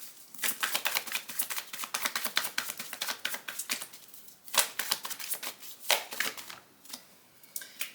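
Tarot oracle cards are shuffled and handled up close in a rapid, crisp stream of flicks, snaps and slaps that runs throughout with brief pauses and no talking.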